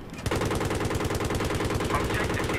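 Sustained automatic gunfire from the video game Battlefield 3 during an air battle, a loud, unbroken fast-paced stream of machine-gun shots that starts abruptly and keeps going.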